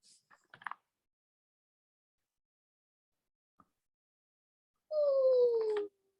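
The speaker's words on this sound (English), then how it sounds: "That's my dog." A dog howls once, a clear, drawn-out falling howl close by in an otherwise quiet indoor room, preceded by a few faint small sounds.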